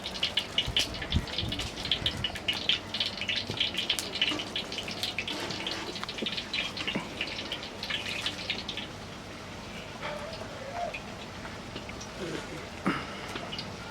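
Water trickles and splashes steadily as it is poured little by little into sifted gram flour to make a runny batter for sweet boondi, close and continuous, with a voice speaking over it.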